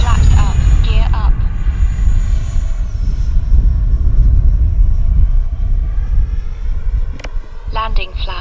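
An FMS Avanti S 70mm RC jet makes a slow, low pass. Its ducted-fan rumble and thin turbine-like whine hold steady, and a voice talks at the start and end.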